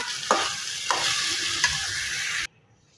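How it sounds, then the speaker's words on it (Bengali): Bitter gourd pieces sauté in a pan for a fish dish, a steady close sizzle with a few sharp stirring scrapes, then it cuts off abruptly near the end. "আর এই করলাগুলা কষাচ্ছি আমি, একটুখানি নরম হয়ে গেলে এরপর আমি মাছগুলো ঢেলে দেবো"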